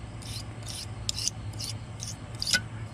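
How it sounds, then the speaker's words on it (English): Razor blade scraping old gasket material off an aluminum surface on a John Deere 100 Series engine, heard as a series of short, close rasping strokes in a steady rhythm over a low background hum. "The correct way of doing is put up against and scrape."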